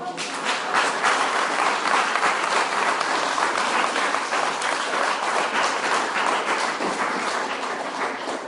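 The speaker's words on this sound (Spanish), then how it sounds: "Den un aplauso a Él." Sustained, loud applause from a church congregation, dense clapping that holds steady throughout and fades slightly at the end.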